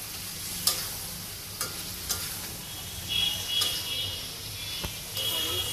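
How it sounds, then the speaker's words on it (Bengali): Mutton kolija (goat liver) being stir-fried in a pan: a soft continuous sizzle with occasional sharp scrapes and clicks of the spatula, fairly quiet and close. "আমরা কষাচ্ছি।"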